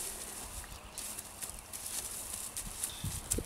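Hooves of a sorrel working horse with four white socks clip-clop in an irregular walking rhythm, fairly faint against steady outdoor background noise, with no voices.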